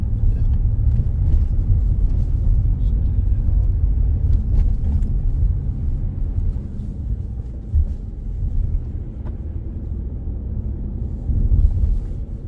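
A driving simulator's car engine hums with a low, steady rumble while shifting into third gear, with a small dip partway through.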